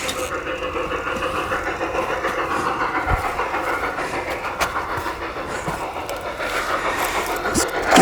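A model train with a caboose runs along a city-line layout track, giving a faint continuous rolling whir with light clicks from the rails and small motor hum throughout.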